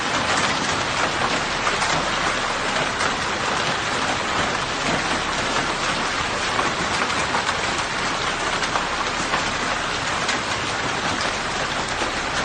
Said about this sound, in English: hailstorms in the middle of summer in Spain will no longer be a rare occurrence